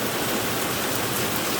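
Steady rain pours down in the Charlapalli area during the Mrigashira monsoon season, a dense, even hiss with no breaks that stays fairly loud throughout, with no voices.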